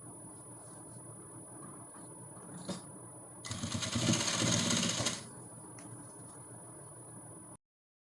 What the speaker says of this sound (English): So I'll bring it here like this, and I'll go on my machine,